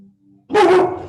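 A dog gives one loud, close bark at people passing by, following a faint whine in a quiet room.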